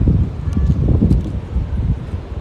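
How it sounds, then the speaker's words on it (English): Gusty wind buffets the microphone with a steady low rumble and rushing noise, loud and close throughout. "Man, it's windy."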